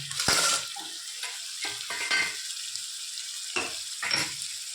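Tomatoes go into sizzling masala in a pan, a moderate frying crackle broken by several bursts of stirring and scraping spaced a second or so apart.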